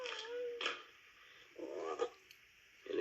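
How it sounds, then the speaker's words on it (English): Frogs croak from a lake at night in a western ranch setting, with several loud, rough pulsing croaks in separate bursts across a few seconds and no talking. "And if you don't cut out that croaking,"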